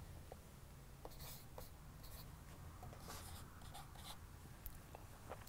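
Marker or chalk strokes on a board as a client-server diagram is drawn during a Perl network programming lecture, with short scratchy strokes and taps in irregular bursts over a low steady room hum, no talk.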